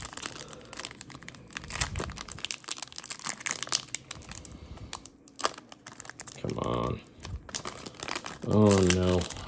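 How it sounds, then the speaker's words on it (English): Donruss Elite trading card pack being torn open, rough crinkling and ripping of foil wrapper in close, irregular bursts, with brief voiced sounds between the rips. "Oh no, rough rip on the Donruss Elite."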